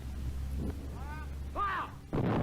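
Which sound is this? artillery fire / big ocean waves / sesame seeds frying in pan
artillery fire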